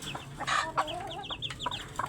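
Chickens clucking and squawking nearby as one is caught for soup, a run of short agitated calls with scattered rustling throughout.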